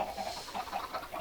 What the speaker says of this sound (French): J'ai fait un petit système de poules. Enfin, de poulets.